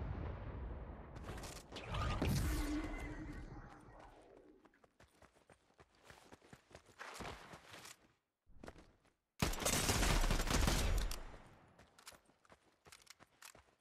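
Gunfire in a Fortnite body cam style custom map, with loud bursts of shots early on, sparse cracks in the middle and a heavy sustained volley later, separated by short gaps of near silence.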